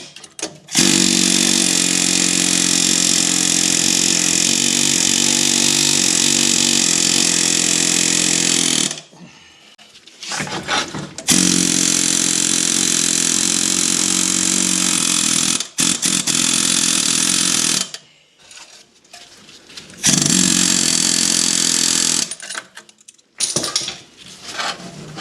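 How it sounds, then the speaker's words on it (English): A pneumatic air hammer works on the front strut of a 2011 Lincoln MKS, hammering loudly in long continuous bursts of roughly ten and five seconds separated by quiet pauses and short clanks. "I got the world's weakest air hammer."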